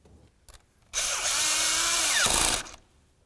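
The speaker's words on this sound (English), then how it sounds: "You wanna make sure that's lined up, and then of course tighten your clamp." A power tool whirs steadily for about a second and a half while tightening a hose clamp during a transmission mount job on a 2002–2006 Honda CR-V, with its pitch dipping just before it stops; a few faint clicks come before and after.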